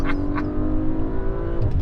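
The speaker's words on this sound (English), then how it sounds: "And this engine." Audi RS5 B9.5 engine in RS mode, a loud close sustained rev with a steady droning tone that dips slightly near the end.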